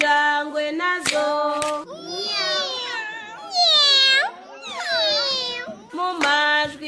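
Cat meowing in a children's animal sounds song, drawn-out rising and falling meows that come between sung lines and clapping, loud and close.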